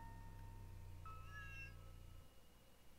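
A cat in a video game gives a single short, faint meow over a steady low background hum.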